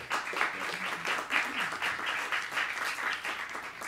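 Audience applause after a performance at an Andalusian and Maghreb music event, a steady dense patter of clapping that swells briefly and stays strong throughout.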